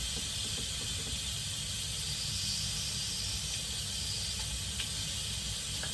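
Steady, loud hiss of steam venting continuously from an Instant Pot pressure cooker after cooking spaghetti, a constant rushing noise with no pauses or voices.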